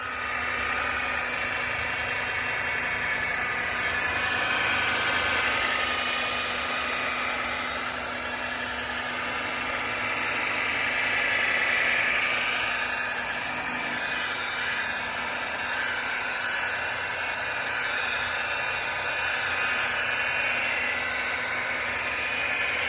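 A rotary polisher compounds oxidized gel coat on a boat hull, giving a steady, close whirring drone with slight rises and falls in pitch as the pad moves across the surface, with no talk.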